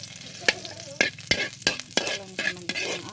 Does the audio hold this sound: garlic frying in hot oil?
yes